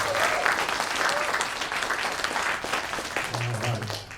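A jazz band concert crowd at a college music department gives a sustained round of applause for a guest guitarist, full and even throughout, with a few voices and a low tone surfacing near the end.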